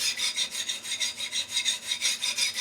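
A knife blade being sharpened on an Ultrasharp 3k diamond plate in a manual guided sharpener with an Atomo 140, a rhythmic series of dry, gritty rasping strokes, close and steady, repeating about every quarter second with no talking.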